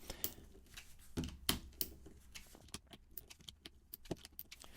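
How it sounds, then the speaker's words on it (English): Tension screws being loosened on a MeiLong 4x4 or 5x5 speed cube produce small, close plastic clicks and light metallic ticks, sparse and quiet, with a few sharper snaps early on. "I'm going to loosen these tensions just a little bit."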